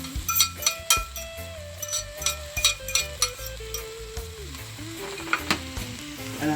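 Three eggs sizzle and crackle in a hot pan for chicken fried rice, a dense steady frying hiss with clicks and scrapes of stirring, close and loud, while a steady tonal hum drifts underneath.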